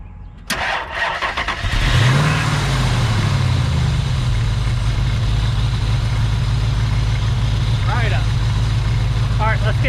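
A 1965 Dodge truck engine cranks and catches, then settles into a steady, loud low idle that runs to the end, with a brief voice heard over it.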